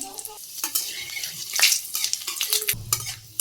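Bay leaf, dried chilli, cumin and fenugreek crackle and sizzle in hot oil in a wok in a Bangladeshi village kitchen, with scraping and clinking from stirring over a steady close hiss.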